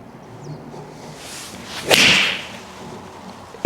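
A game-improvement golf iron strikes a ball with one sharp, harsh, clicky impact midway through, followed by a brief airy swish, set against quiet outdoor background noise.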